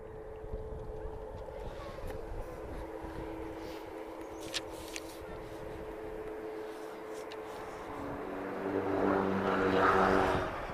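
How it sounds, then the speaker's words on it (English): A Turkish Airlines Boeing 737 MAX 8 moves at Lisbon Airport, its engine hum faint and distant under wind noise before swelling louder near the end. "So Turkish is coming towards us. This is a Max 8."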